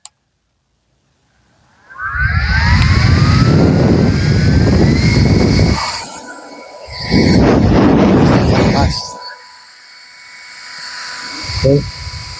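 An Orashare K300 double waist fan on turbo mode gives a loud, close, jet-like whooshing roar that surges for several seconds, drops, then roars again before easing into a softer steady whir.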